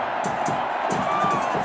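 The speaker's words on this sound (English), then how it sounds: "And gives the home supporters something to cheer about again." Home supporters in a stadium in Kuala Lumpur roar after a goal against England, a broad, continuous crowd cheer heard at a distance with commentary over it.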